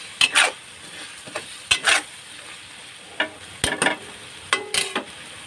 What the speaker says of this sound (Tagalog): Ituin muna natin medyo yung alamang bago natin lagyan ng ano